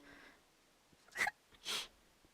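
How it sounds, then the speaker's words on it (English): Two quick, sharp hiccups a moment apart, close and fairly quiet, the second slightly longer and breathier, in an otherwise quiet indoor setting. "I'm gonna hiccup."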